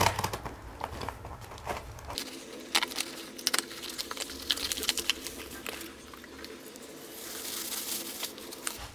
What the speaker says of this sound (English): So let's unbox.